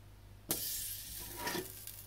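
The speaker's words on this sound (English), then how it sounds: "We're gonna saute the zucchini, a little bit of olive oil," Olive oil and a dab of butter burst into a loud sizzle in a hot pan for sautéing zucchini, a sudden onset after a quiet start, then a steady crackling hiss with a brief flare near the end.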